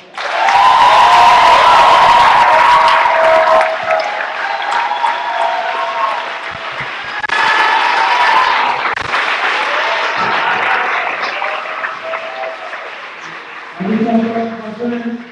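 Audience applause at a Katrina 10 memorial event, honoring people who work with families and friends of incarcerated Louisiana children; loud, dense clapping swells and fades across the span, with voices and crowd noise mixed in before a brief spoken tail.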